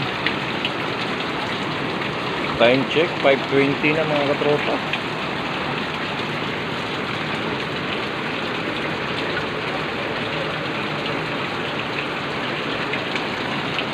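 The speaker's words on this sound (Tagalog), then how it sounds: "Sobrang lakas na naman ng ulan." Heavy early-morning rain pours continuously in a steady dense hiss outdoors in the Philippines, a bucket filling quickly, with someone briefly speaking over the downpour.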